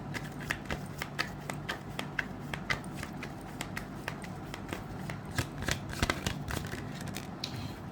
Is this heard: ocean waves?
no